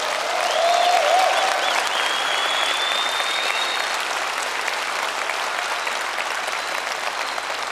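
Large keynote audience at a gaming fanfest applauding steadily, a dense, even wash of clapping that holds at full strength from start to finish with no speech over it.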